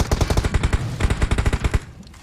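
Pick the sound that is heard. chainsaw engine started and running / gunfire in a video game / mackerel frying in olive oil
gunfire in a video game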